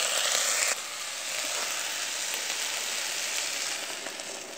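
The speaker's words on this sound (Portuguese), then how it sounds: "Vou colocar água quente logo aqui." Hot water poured onto rice inside an Oster electric multi-cooker, a steady close hissing, sizzling pour that continues evenly for several seconds with no talk.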